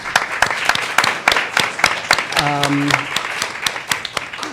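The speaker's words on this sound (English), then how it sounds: "can we give Lynn a round of applause?" Audience applause for an arts and culture program director at a museum panel event, a spread of separate hand claps with a brief tonal sound partway through.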